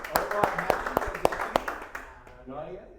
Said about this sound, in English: I'm going to give a hand clap on that